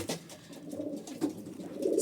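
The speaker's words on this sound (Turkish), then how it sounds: "Elimde gördüğünüz güvercin benim değil." Soft, low pigeon cooing repeats in short murmuring bursts against a faint background hiss, growing a little fuller toward the end.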